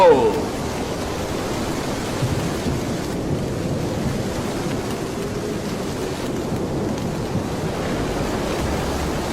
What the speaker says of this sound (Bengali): এত ঢেউ ঢেউ তো এক একটা পাহাড়ের মতো লাগছে